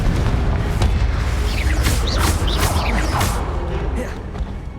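A Confringo spell explodes in the Hogwarts Legacy video game: a deep boom followed by crackling, whooshing magical bursts and debris over rumbling game noise. A voice is heard faintly.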